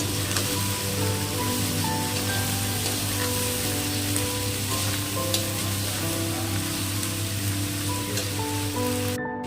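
Cabbage fries and is stirred in a wok with tomato already in it, giving a loud, steady sizzle with scraping stir sounds throughout and no talk.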